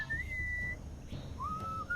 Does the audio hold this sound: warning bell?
no